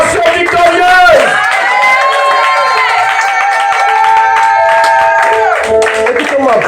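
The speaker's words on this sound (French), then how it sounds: "Est-ce que tu peux donner une acclamation victorieuse?" A church congregation raises a loud, sustained shout of acclamation, many voices crying out and cheering together close up, swelling and ebbing across several seconds.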